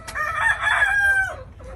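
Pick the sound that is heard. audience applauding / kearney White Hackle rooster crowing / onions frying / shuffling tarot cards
kearney White Hackle rooster crowing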